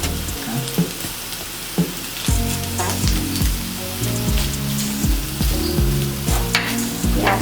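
Broccoli frying in butter in a pan, a close sizzle with stirring scrapes and knocks over a low rhythmic hum, no speech.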